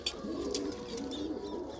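Pigeons kept as a flying hobby flock, red and mottled birds, coo in a continuous low murmur nearby, with a few sharp clicks or taps over a steady background hum.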